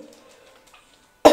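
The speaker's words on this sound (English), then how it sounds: "Give a deep cough. Like a real deep cough." A woman in labor during a home water birth lets out a single sharp, deep cough at the end after a stretch of near silence and faint murmuring.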